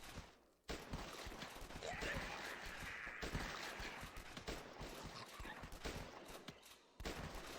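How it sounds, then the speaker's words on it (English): Gunfire in the Last Stand zombie shooter flash game, heard as dense, continuous rapid crackling shots at moderate loudness after a brief quiet start, broken by a short lull near the end. "God, these gun sounds."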